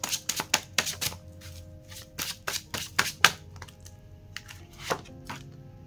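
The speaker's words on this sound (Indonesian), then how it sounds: "Aku shuffle lagi kartunya" Tarot cards are shuffled by hand up close, giving quick bursts of riffling and slapping in an irregular rhythm with brief pauses between them.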